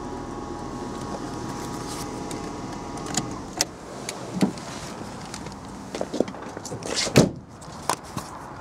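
Electric door mirrors on a six-year-old Citroen C3 hatchback whir briefly as they move, with several short motor runs and clicks.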